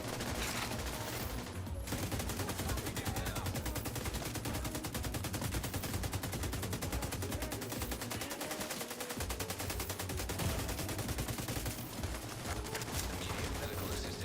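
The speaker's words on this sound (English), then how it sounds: "but they're still shooting at me" Nearly continuous automatic gunfire in the video game The Division 2, with dense rapid shots rattling for many seconds, one short lull near the middle, and a voice talking underneath.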